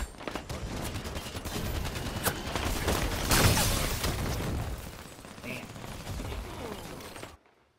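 Rapid gunfire in a Halo 5 multiplayer match, a dense continuous stream of automatic shots and bursts with a heavier blast in the middle, loud and close, ending abruptly.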